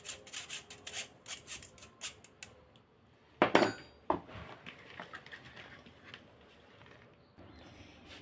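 Dry ingredients for an eggless cake, including baking soda, being sifted through a sieve: a quick series of light metallic taps, a louder rattling scrape, then softer rustling, close and quiet.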